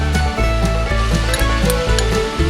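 Garlic-ginger paste sizzles loudly and steadily in a hot pan of oil while cooking bhindi gosht masala, with faint clinks of a spoon stirring throughout.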